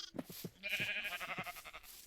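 On a game wool farm, a sheep gives one long, quavering bleat after a few soft thuds, fairly close and clear with nothing else over it.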